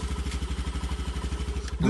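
A scooter's small engine idles close by with a steady, pulsing putter, followed by a brief clunk at the end.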